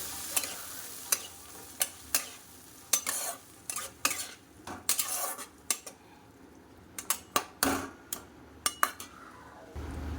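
A spatula stirs fried potatoes with ginger, green chilli, chilli powder, turmeric and tomato in a pan for a banana flower curry, making sharp, irregular scraping knocks over a faint sizzle, with no talking.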